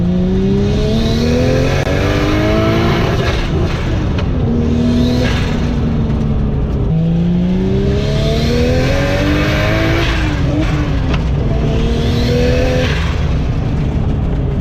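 A tuned Nissan Skyline R34 GT-R, a Z-Tune widebody, revs hard through repeated rising pulls, with engine pitch climbing and dropping between gear changes, loud and close with no talking.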